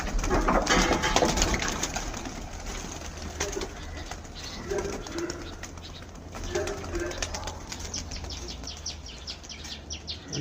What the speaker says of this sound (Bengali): এই পছন্দ পায়রাগুলো ছাড়ছে।